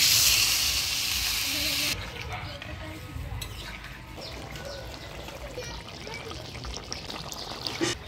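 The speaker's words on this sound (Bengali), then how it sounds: "এবার ঝোল দিয়ে দিব।" Broth poured into a pan of egg, potato and cauliflower curry, a bright splashing hiss for about two seconds followed by soft bubbling and kitchen clatter, with a voice talking over it.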